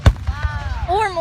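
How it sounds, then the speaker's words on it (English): Fireworks finale with several shells bursting at once: a sharp loud bang at the start, then a few softer thuds beneath rising and falling whistling tones, with a voice faintly present. "they like do like 5 fireworks that go up at the same time and explode at the same time"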